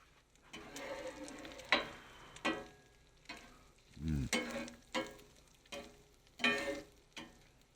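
Eggs sizzle and fry steadily on a breakfast griddle, with repeated scraping and stirring strokes over the hiss and a low clatter of the spatula, close and moderately loud with no talking.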